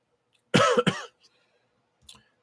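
Two sharp, loud coughs in quick succession, close up, followed by quiet and a faint small throat sound.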